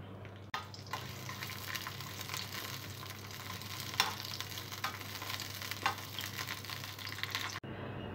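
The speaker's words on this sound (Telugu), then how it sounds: "ఆయిల్ వేడైన తర్వాత పచ్చిమిరపకాయలు, ఎండుమిర్చి వేసి ఫ్రై చేసుకోవాలి" Green chillies and dry red chillies fry in hot oil in a pan on a stove, a steady close sizzle with occasional crackles and stirring scrapes.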